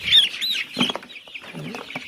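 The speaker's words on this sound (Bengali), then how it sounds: "এখন আমি ছোট 3টা, বড় 3টা, মাঝারি 3টা মুরগি নিব, মোট 9টা।" Broiler chickens cluck and squawk in short agitated bursts as they are picked up for weighing on a farm, close and moderately loud with no speech.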